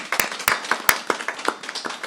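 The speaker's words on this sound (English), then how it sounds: "how about a round of applause for an exceptional employee?" A small group claps for an employee at a county commissioners court meeting, a sparse handful of distinct, uneven hand claps close by in a quiet room.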